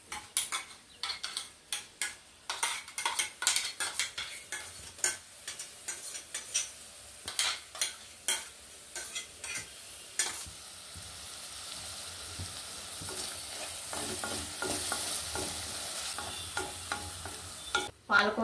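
Spinach paste is stirred and fried in a pan, with busy scraping and clinking of a utensil against metal through the first half, then a steady sizzle with occasional stirring knocks, close up.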